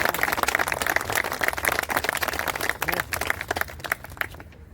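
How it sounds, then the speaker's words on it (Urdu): Vigorous crowd applause at a CDA employees union gathering in Islamabad, with thick, continuous clapping that stays loud throughout before thinning out at the very end. "ساروں کے لیے تالیاں ہونی چاہیے میرے بھائی"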